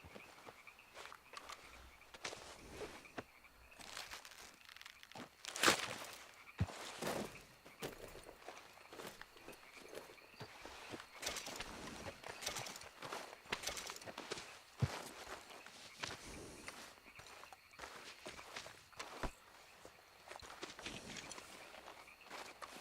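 Horse hooves in the video game Red Dead Redemption 2 plod along on hard ground, a steady uneven clopping with occasional louder thuds, moderately close and without voices.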